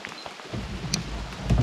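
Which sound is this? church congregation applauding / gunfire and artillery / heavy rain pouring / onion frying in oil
heavy rain pouring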